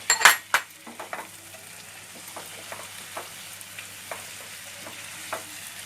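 Prawns frying in a pan, with a burst of loud sizzling and stirring clatter at the start that settles into a steady low crackle with occasional soft scrapes.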